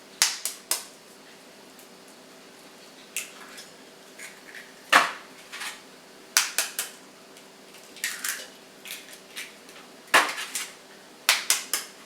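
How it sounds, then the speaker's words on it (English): Four eggs cracked into a bowl for a Christmas morning French toast bake, a scattered series of sharp clicks and taps on the rim, some in quick pairs, in a quiet kitchen. "we're going to crack 4 eggs down into our bowl"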